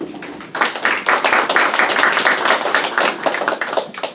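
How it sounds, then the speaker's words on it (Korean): An audience at an immigrant community briefing on revised public-benefit recipient rules claps to welcome a legal adviser to the front; steady, close, fairly loud clapping builds quickly and holds for several seconds with no talking. "우리 박수로 환영하겠습니다"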